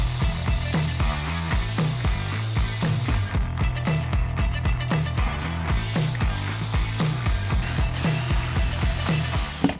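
A power drill runs a pilot bit into a wooden corbel, close and steady, with a fast rhythmic ratcheting click pulsing through the motor whine from start to finish.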